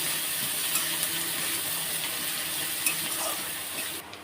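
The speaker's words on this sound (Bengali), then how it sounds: "দুটো শুকনো লঙ্কা ছিঁড়ে দিয়ে দিতে হবে একটু জিরে গোটা জিরে কুচনো পেঁয়াজ ভালো করে নাড়িয়ে চাড়িয়ে একটু ভেজে নিতে হবে" Dry red chillies, whole cumin and chopped onion fry in hot oil, a steady close sizzle with occasional faint crackles and stirring scrapes, no voices.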